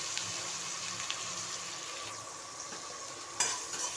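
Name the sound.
garlic cloves frying in a pan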